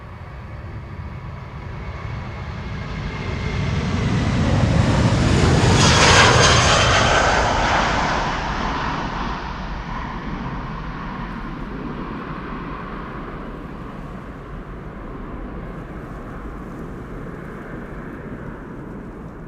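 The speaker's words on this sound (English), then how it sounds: "This looks like Turkish Airlines. In that case, it is going to Istanbul." A Turkish Airlines jet departs Amsterdam Schiphol Airport, its engine roar swelling to a loud peak around six seconds, then fading into a long, steady rumble as it climbs away.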